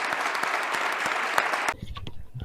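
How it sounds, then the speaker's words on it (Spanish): Audience applause for a woman named Beatriz at a talk on a popular legislative initiative: brisk, even clapping for under two seconds that cuts off abruptly, leaving quieter room sound and a few stray noises. "le vamos a dar un aplauso muy, muy, muy, muy fuerte a Beatriz"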